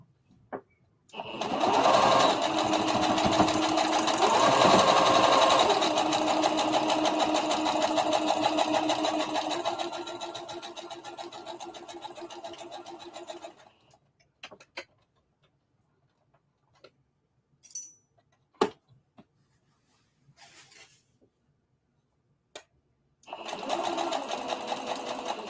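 A sewing machine runs a straight stitch on fabric for a circle dress, a steady loud whir for about twelve seconds that slows and stops, followed by a few faint clicks and a short restart at the end.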